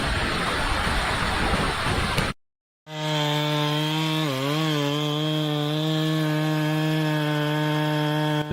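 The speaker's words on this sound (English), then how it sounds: "The chainsaw screeches like a mechanical beast unleashed." A chainsaw bites into a giant burnt tree trunk with rough, noisy cutting, goes briefly silent, then revs back as a loud whining engine tone that dips and climbs under load.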